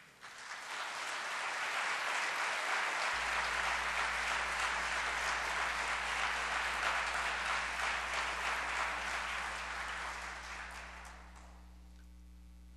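A keynote audience breaks into sustained loud applause, dense clapping swelling quickly and holding for about ten seconds before tapering off over a low steady hum.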